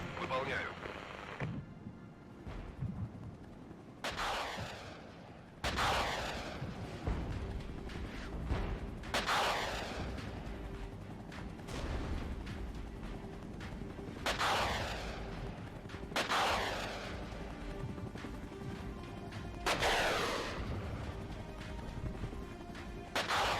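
Mortar rounds landing in the Regiments real-time strategy game, a series of sharp booming impacts spaced a few seconds apart, each trailing into a rumbling decay over a continuous low battle drone and ongoing talk.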